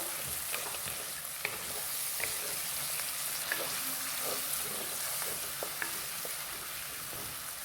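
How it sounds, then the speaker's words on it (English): Tomatoes are stirred into frying onions for salmon fish curry (meen kulambu), with a steady sizzle in the pan and a spoon scraping and knocking at regular intervals. "add the tomatoes, mix well"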